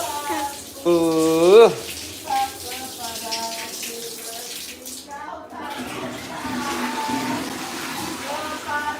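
A child splashing and playing with running water, probably from a tap or in a bath, with a steady wash of water, a sharp squeal early on, and a voice talking over it.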